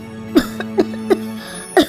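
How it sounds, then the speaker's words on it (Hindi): Four short, sharp coughs spaced unevenly over a couple of seconds, close and fairly loud, over a steady low hum. "ये इतनी खांसी क्यों आ रही है तुझे?"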